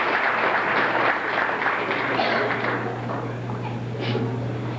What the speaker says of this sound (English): Let's give Bob a little round of applause here.